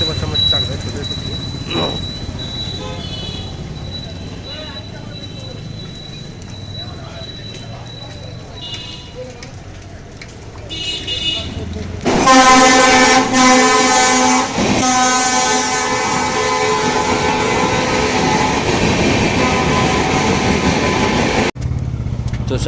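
A train pulls into Chakdaha railway station: quiet platform ambience gives way to a loud, close rumble with a blaring horn-like tone partway through, sustained to the end, with voices faintly mixed in.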